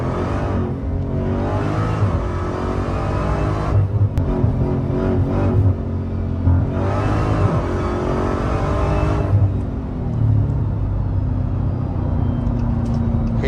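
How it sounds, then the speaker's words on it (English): A Dodge Hellcat with a large supercharger revving hard, close and loud, its engine roar rising and falling in repeated pulls with a rising supercharger whine on top; no talking. "Just listen to the whine on this car."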